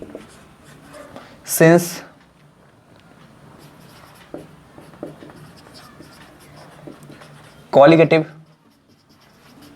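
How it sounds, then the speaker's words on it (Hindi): Scratching strokes of writing on a board during a chemistry lecture on colligative properties, faint and intermittent between two short bursts of someone speaking Hindi. "तो मैं यहाँ पे लिख देता हूँ"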